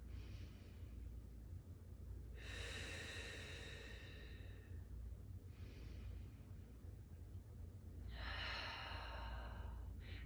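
Slow, deep breaths during a breath and abs workout, two long airy exhales several seconds apart with softer inhales between, heard close over a steady low background hum.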